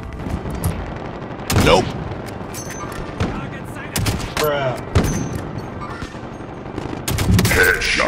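Sniper rifle shots in a Call of Duty match, a few sharp, loud isolated cracks spaced seconds apart, mixed with game effects and a voice talking between shots.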